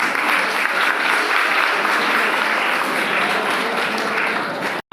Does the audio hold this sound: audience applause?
yes